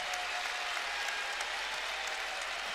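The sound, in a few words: Rupp Arena crowd applauding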